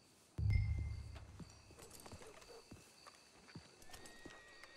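Horses stand and shift nearby in a video game, Red Dead Redemption 2, with a low heavy thump at the start followed by scattered hoof clops and faint creaks in a quiet setting.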